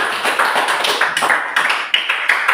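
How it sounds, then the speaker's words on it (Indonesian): Students in a classroom clap for a presenting group, a brief burst of quick, overlapping hand claps, close and fairly loud, steady throughout. "Oke, tepuk tangan kelompok 3."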